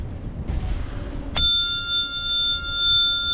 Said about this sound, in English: If you want a beautiful sounding bell that looks good, that sounds like the best sounding bell you'll find, and rings forever, it just resonates